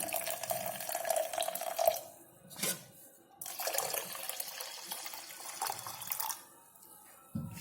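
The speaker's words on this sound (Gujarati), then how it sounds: "હવે આની અંદર આપણે પાણી મિક્સ કરીશું।" Water poured into a pot of rice-free healthy khichdi, splashing and trickling close by in several bursts with short quiet gaps between them, and no talking.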